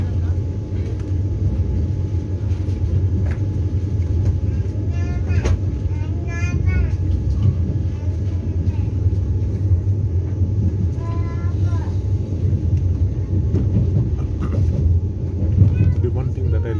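Vande Bharat Express train pulling out of Kollam station in the early morning, a steady low rumble and hum of the moving carriages heard from inside, with a person talking over it throughout.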